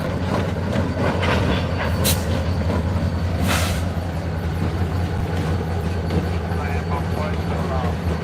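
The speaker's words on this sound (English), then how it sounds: "that locomotive, that combination, are remote controlled" A remote-controlled New York Central locomotive passes with a steady, loud low rumble and engine drone, close by and unbroken throughout, while someone talks over it.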